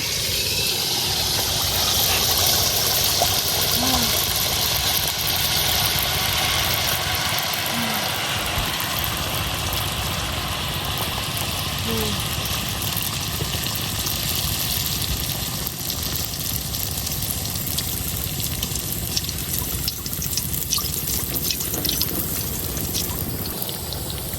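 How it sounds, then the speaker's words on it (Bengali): Malpua pitha batter fries in hot oil with a steady, dense bubbling hiss that holds for the whole stretch, fairly loud and close, with faint voices now and then beneath it. "এখন এই যে কাইটা দিয়ে দিতেছি তেলের মধ্যে।"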